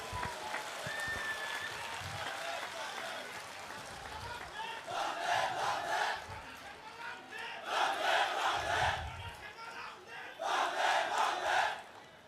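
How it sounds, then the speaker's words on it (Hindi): A large crowd at an outdoor mass political gathering in Tripura breaks into waves of loud applause and cheering to welcome the Chief Minister, three swelling bursts rising over murmuring voices. "हमारे सीएम साहब के स्वागत में तालियों की गड़गड़ाहट होनी चाहिए।"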